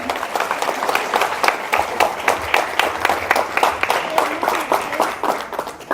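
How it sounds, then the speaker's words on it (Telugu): A crowd at a blanket donation drive claps loudly and continuously, dense rapid hand claps forming sustained applause with a faint murmur of voices beneath. "ఇంకొకసారి గట్టిగా చప్పట్లు కొట్టాలి లౌడర్"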